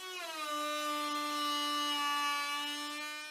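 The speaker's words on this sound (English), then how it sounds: "So I'm using the trim router with a rabbeting bit." A trim router fitted with a rabbeting bit cuts a rabbet into wood, a loud, steady high-pitched motor whine that spins up at the start and holds evenly through the cut, with no talking.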